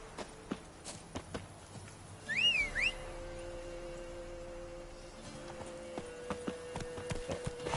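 Horse hooves clip-clop at a walking pace for Roach, Geralt's horse in The Witcher 3, soft and moderately close over quiet ambience, with a brief whistle-like sweep partway through.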